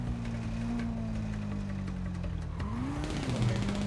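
Car in the GTA 5 video game driving past, a steady loud engine drone that rises in pitch near the end as it revs, with no talk over it.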